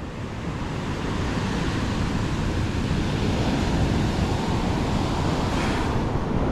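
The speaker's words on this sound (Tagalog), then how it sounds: "ang ating dagat mga kasord ay talagang humahagupit ang habagat" Strong southwest monsoon wind drives heavy surf onto a beach, a continuous loud roar of crashing waves and gusting wind buffeting the microphone with no letup.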